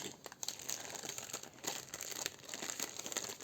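Someone opens a package by hand, with quiet, close paper crinkling and a few sharper tearing bursts in an irregular rhythm with no talking.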